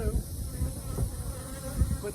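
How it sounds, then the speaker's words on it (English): Honeybees drone in a dense, continuous buzz from an opened hive box, close and steady with low-pitched swells throughout and no voices. "as you can see, there's lots of bees up in here"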